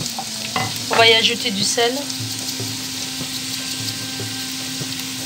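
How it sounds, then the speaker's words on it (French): Sliced onions frying and stirred in a pan, a steady sizzle with scraping stir strokes early on, close and clear while someone speaks briefly in French. "Donc je fais revenir mes oignons."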